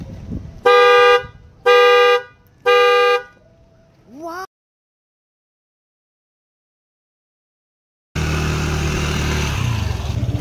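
A motorcycle alarm: three loud, evenly spaced horn-like blasts sound up close, then a rising electronic chirp. Silence follows before a steady, noisy engine-like drone begins.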